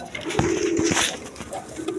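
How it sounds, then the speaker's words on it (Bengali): Iranian Angel pigeons coo up close in a few short, throaty bursts, loud and distinct with brief pauses between them and no talk. "এখানে এক পেয়ার আট এঞ্জেল কবুতর আছে ইরানি কবুতর"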